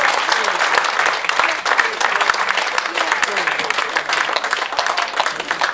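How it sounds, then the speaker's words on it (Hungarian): Audience applause at a wedding folk festival in Ajak, a dense, steady wash of clapping from a large crowd that carries on evenly throughout, with no talk above it. "Még egyszer tapsoljátok."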